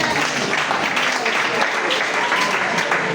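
A church congregation applauding to acclaim the Lord, a dense, steady wash of clapping throughout with voices mixed into the crowd noise.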